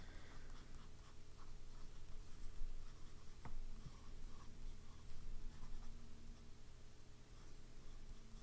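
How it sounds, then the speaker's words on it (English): A Birmingham Pen Company fountain pen with a medium nib scratches faintly across paper in a steady, quiet stroke against a low background hiss. "I love how this pen writes on this paper"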